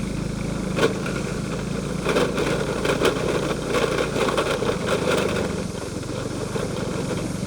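Motorcycle engine labouring uphill on a slippery mountain road after rain, a close, steady drone with slight rises and dips in revs and no talking.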